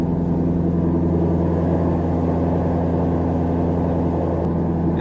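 A car engine idles steadily with a loud, throaty exhaust, its low droning rumble constant and close throughout, cold right after start-up, with no talk.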